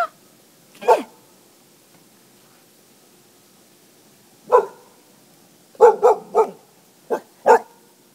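A dog barking while playing in snow, with a single bark, then a pause, then a quick cluster of several loud, close barks in uneven bursts against a quiet background.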